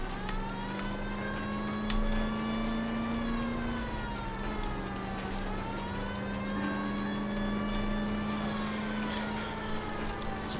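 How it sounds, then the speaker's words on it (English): Police sirens in the game L.A. Noire wail steadily and continuously over a low hum of engine and traffic. The sound stays at a moderate level throughout, with no talking. "It's the sound of the goddamn sirens constantly going."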